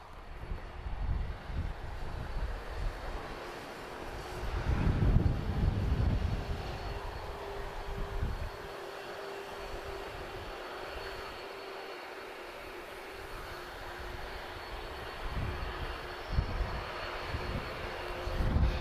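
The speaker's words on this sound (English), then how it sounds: "And you may hear the sound of 2 CF6 engines" First-generation Airbus A330 with two CF6 engines taxiing at Lisbon Airport, a low, steady engine roar that swells around the middle of the clip, heard from a moderate distance.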